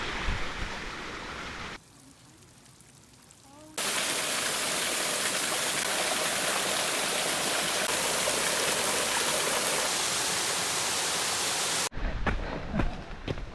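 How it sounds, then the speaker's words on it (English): A waterfall rushes on the West Highland Way in Scotland, a loud, dense roar of falling water that cuts in abruptly after a quieter stretch and runs steadily before dropping away. "First waterfall of the day."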